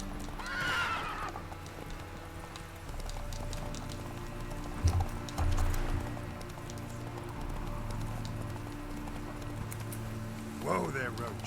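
The horse Roach in The Witcher 3 whinnies and its hooves clop over a steady game background, with someone talking over much of it.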